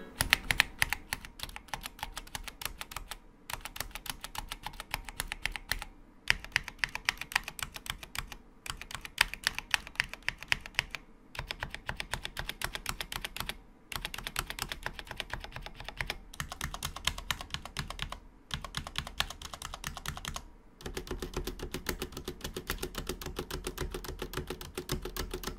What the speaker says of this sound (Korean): 그러면 지금부터 기계식 키보드의 가장 중요한 타건을 한번 해보도록 하겠습니다.